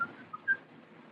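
A few short, faint whistled notes, thin and a little distant, separated by brief pauses against quiet background noise.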